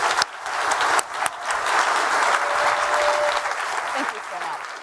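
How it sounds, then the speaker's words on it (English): A large audience applauds Elon Musk, a dense, steady wash of clapping that runs loud and unbroken for several seconds before tapering slightly, with a brief voice or two underneath. "let's just give a huge round of applause to Elon."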